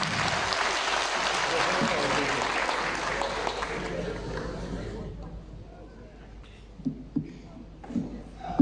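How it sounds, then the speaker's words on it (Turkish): Audience applause at a stage concert event in Bursa, a dense sustained clapping that fades out after about five seconds, leaving a quiet hall with faint scattered sounds. "Alkış bu kadar mı?"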